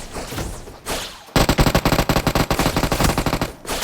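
Rapid automatic gunfire in the mobile battle royale game PUBG Mobile on the Livik map, loud close bursts of dense repeated shots after a brief quieter lead-in.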